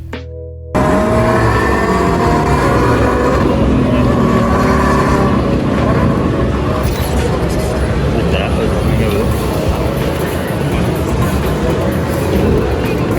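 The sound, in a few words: modified car exhaust revving at Tokyo Auto Salon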